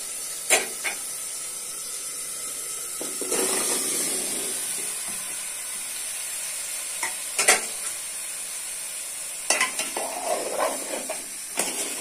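Squash pieces sizzle in a pan of cooked-down spice masala, a steady hiss punctuated by a few sharp scraping knocks as a spoon stirs, close and without voices.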